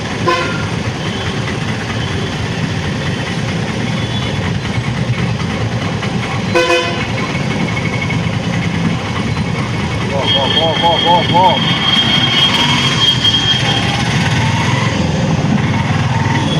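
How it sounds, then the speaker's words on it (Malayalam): A bus honks its horn amid busy road traffic: one sharp toot, then a longer wavering horn blast later, over constant engine and road noise, while a person talks. "എന്നാൽ അത് ബസ് ഓൺ അടിച്ചുകൊണ്ടേ ഇരിക്കുന്നു"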